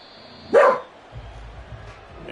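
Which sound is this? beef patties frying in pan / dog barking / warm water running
dog barking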